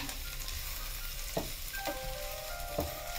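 Onion and garlic frying in a pan for a Bengali mixed vegetable dish, a steady close sizzle with a few sharp knocks of stirring over it, no talking.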